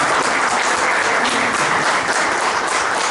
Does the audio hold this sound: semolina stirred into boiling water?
no